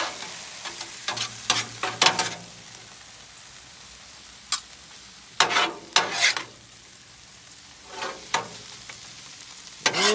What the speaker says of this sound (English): I'm just going to mix all that cheese.